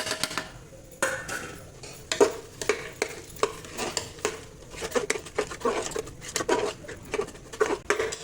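A spoon stirs thick, cooked dal with jaggery in a pan, giving repeated scraping and soft sticky patting strokes in an irregular rhythm, close up and moderately loud with no talking.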